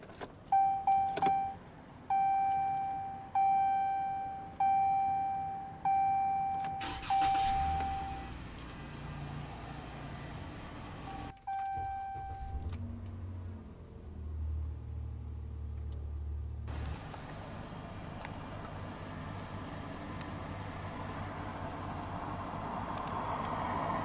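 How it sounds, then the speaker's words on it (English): Warning chimes ring repeatedly inside a 2017 Ram 1500 SLT Quad Cab pickup before its diesel engine cranks, catches with a short rev and settles into a steady, low idle. "let's go ahead and start the engine"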